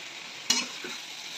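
Spiced potatoes stirred in a frying pan, a sizzling hiss broken by one sharp scrape of the spoon and a softer second scrape, close up with no voices.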